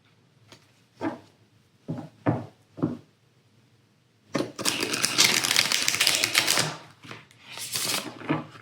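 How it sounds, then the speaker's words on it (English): A deck of tarot cards being reshuffled: a few separate soft taps and slaps, then a longer, dense riffling flutter of cards that rises and fades near the end. "Let me just reshuffle once again."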